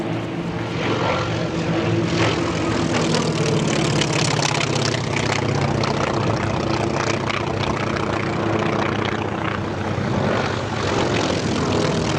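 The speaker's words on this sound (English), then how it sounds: "The T-28s are going to come through low and fast" T-28 warbird propeller planes make a low, fast pass at the Oshkosh airshow, a loud, continuous roar of aircraft engines that swells and holds throughout without a break.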